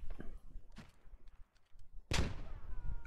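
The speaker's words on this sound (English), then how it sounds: "Alright, nade, watch this perfect nade." A grenade bursts in the military shooter game Squad with one loud, sharp blast near the end, preceded by quieter thumps and scattered clicks; no voices are heard.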